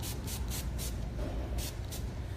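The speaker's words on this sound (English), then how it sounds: "I'm spraying in just a very little bit of wave mist" A bottle of beach wave mist is sprayed onto hair in a series of six or so quick, short hissing puffs, some in rapid pairs, over a steady low background hum.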